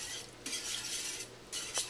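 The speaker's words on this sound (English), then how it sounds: "As the cream cheese melts, I'm going to whisk it into break up the cream cheese" A whisk scrapes and stirs melting cream cheese in a pan, steady swishing with a few louder metallic strokes, close and alone.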